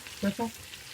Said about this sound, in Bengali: আলুটা ভেজে দিয়ে দেবো।